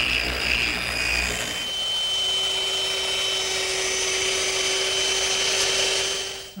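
A power sander works over the glued joints of a wooden standing mirror frame, a steady loud whirring hum with a shift in pitch early on, running close and alone without speech.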